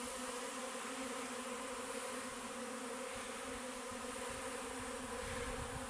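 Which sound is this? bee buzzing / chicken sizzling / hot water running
bee buzzing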